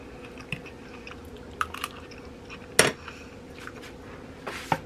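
Tasting a bite of home-made fried chicken in a country kitchen: soft chewing and a few crisp bites, with light clinks of cutlery and dishes and one sharper crunch, close and fairly quiet, with no talking.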